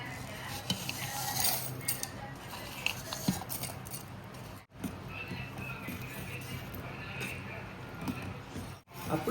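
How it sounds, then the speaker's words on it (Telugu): Dried vermicelli goes into a pan for coconut payasam, giving soft clinks and stirring scrapes of a utensil against the metal over a steady low background, with someone speaking throughout. "ఇప్పుడు సేమియాలు వేసుకుందాం."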